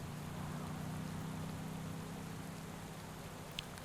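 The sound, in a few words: rain in cycling video game Pro Cycling Manager 2021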